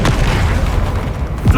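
An Expelliarmus spell goes off in Hogwarts Legacy with a loud, dense magical boom and rush that fills the short moment, ending in a final low thump.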